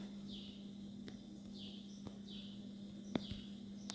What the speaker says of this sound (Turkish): Dışarıdan kuş sesleri geliyor.